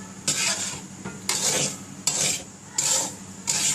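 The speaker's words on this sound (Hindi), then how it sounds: "ये हमने भुनाई करना शुरू कर दी है।" Semolina roasting in a pan for suji halwa, a dry gritty scraping and rasping as a spoon stirs it in repeated close strokes, each sweep loud and separated by brief pauses.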